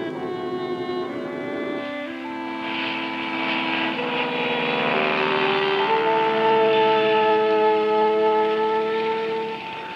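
A bush plane flying over the far north of Canada gives a steady propeller-engine drone with sustained tones that shift in pitch as it passes, loud and continuous throughout.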